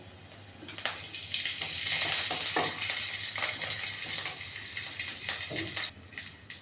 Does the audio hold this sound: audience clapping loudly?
no